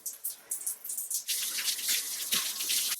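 Running water rinses shampoo out of curly hair, giving a close, splashy, uneven rush of water that grows fuller and steadier in the second half.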